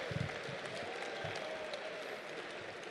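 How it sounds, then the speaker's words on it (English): Audience at an evening awards ceremony for a school sports club clapping for themselves, a steady, dense wash of many hands that holds at an even level throughout. "everybody, just clap for yourselves."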